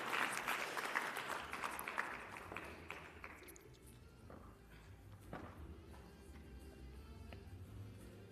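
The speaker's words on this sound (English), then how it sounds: "Please give her a big round of applause as she makes her way to the front." Conference plenary audience applauding as a guest walks to the front, a full burst of clapping that gradually thins and fades over several seconds, with scattered footsteps and shuffling heard faintly.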